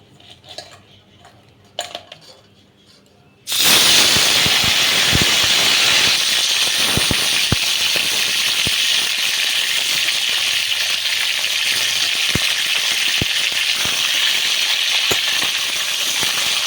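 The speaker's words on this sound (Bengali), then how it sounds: "তেল গরম হয়ে গেছে আমি এবার কাঁকড়াগুলো ভাজার জন্য দিয়ে দেবো" Hot mustard oil bursts into a loud, steady sizzle and hiss as crabs hit the pan, with occasional clinks of a utensil against metal; a few faint sounds precede it.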